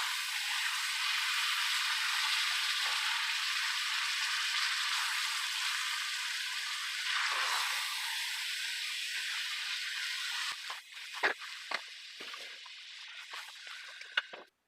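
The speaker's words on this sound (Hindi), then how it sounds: "मसाला डाल के फिर इसे अच्छे से भून लेंगे" Chicken with masala spices fries for a red chicken dish, giving a steady, loud sizzle that hisses on for several seconds, then breaks into scattered crackles and pops near the end.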